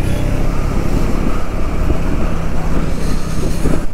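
A motorcycle rides along a cold mountain ghat road between Rudraprayag and Nainital, its engine a steady loud rumble blended with heavy wind rush and no clear speech.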